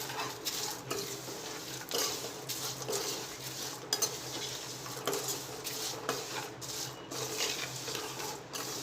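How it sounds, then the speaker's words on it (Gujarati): A spoon stirs papad poha chivda seasoning with amchur, fried cashews, chillies and curry leaves in a pan, giving steady close clinks and scrapes against metal, alone and without talking. "બધું સરસ મિક્સ કરી લઈશું।"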